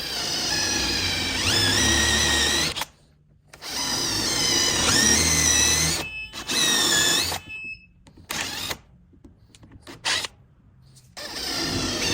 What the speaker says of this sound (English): Drill some of the material out.